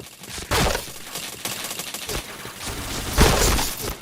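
Gunfire in a shooter video game: several sharp, loud bursts of shots and impacts spaced across a few seconds, close and punchy, with quieter clattering between them.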